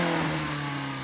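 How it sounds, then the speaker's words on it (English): A BMW M3 E30 engine runs in a brief, steady, moderately loud drone with a firm low hum, heard alone without voices. "we're going to rev up these cars' engines and see what they sound like"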